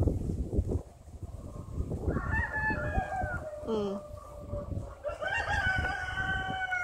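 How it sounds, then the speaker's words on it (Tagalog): Roosters at Kadoorie Farm crow repeatedly, one call overlapping another, fairly close against steady outdoor background noise. "Dinig na dinig ang tilaok nila."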